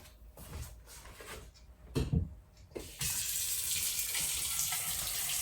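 Water runs from a kitchen tap into a bowl, a steady close hiss and splash that starts abruptly after a few clunks and knocks, continuing evenly without talk.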